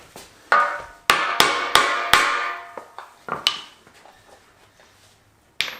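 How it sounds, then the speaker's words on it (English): Sharp hammer blows strike a piece of wood to drive solid subframe bushings into a car subframe, about a dozen impacts in uneven clusters that ring briefly and then fade, with no talking. "Let me get a piece of wood and a hammer."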